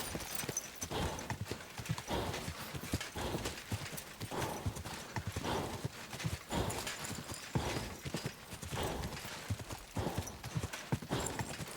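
Rapid rhythmic clip-clop of horse hooves galloping steadily in the video game Kingdom Come: Deliverance 2, with an occasional whinny, continuous throughout.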